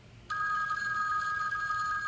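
In the horror video game Babysitter Bloodbath, a telephone starts ringing after a quiet moment, a steady electronic trill that continues without a break, close and clear.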